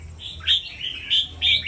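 A caged songbird chirps in short, loud, high bursts, three or four sharp calls spaced across a couple of seconds, close to the listener with faint background noise and no talk.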